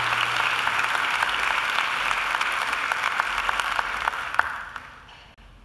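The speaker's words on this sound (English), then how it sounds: "I think Laura deserves another great round of applause too." A graduation ceremony audience at Macquarie gives a steady, dense round of applause with many hands clapping at once, holding level before thinning out and fading away at the end.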